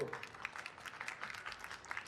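Faint applause from a convention audience at a YouTuber panel, a soft, thin patter of clapping sustained for about two seconds at a distance.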